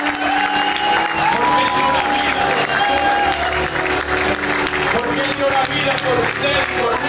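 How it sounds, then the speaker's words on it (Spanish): A church congregation claps loudly and continuously in praise to the Lord, with scattered cheers and a held musical tone sounding beneath the dense applause. "denle un aplauso fuerte al Señor."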